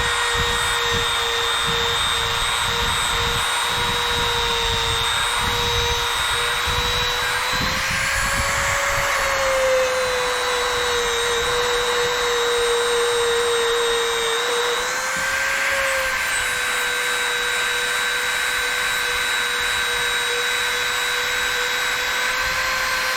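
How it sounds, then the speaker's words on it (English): A Dremel rotary tool polishing a vintage juicer gives a loud, continuous high-pitched whine that holds steady for over twenty seconds, its pitch dipping slightly twice as pressure changes, with no voices. "It's the Dremel tool."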